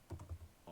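Several quick, soft keystrokes sound on a computer keyboard, faint and close, in a brief burst of typing.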